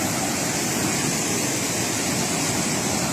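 Strong, fast river during a flood, a constant loud roar of rushing water heard close and alone throughout.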